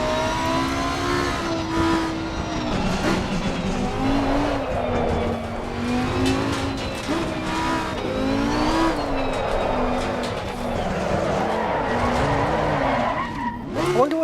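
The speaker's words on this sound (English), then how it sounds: "the car swings round in a drift" A race car skids and drifts in Assetto Corsa Competizione, with loud, continuous tire squeal and a wavering engine note sustained throughout, rising and falling as the car slides.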